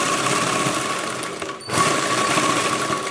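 A sewing machine runs steadily while stitching a chudithar top, a continuous close mechanical whir with a brief pause midway before it starts up again.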